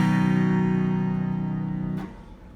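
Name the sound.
harpsichord bass with 16-foot and 8-foot stops coupled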